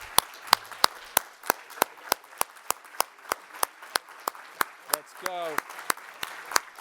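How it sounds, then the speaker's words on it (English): A small crowd at a forum claps in support of an Olympic boxer, sharp, distinct claps in a steady rhythm, with a brief voice calling out partway through. "a round of applause"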